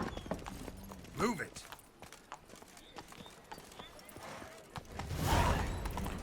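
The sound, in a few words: horse Roach hoofbeats in video game The Witcher 3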